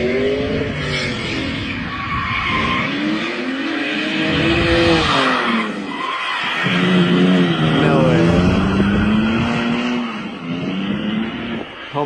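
A drift car spins through a 360-degree turn, its engine rising and falling in loud revving sweeps over steady tire noise for about twelve seconds, with no talk.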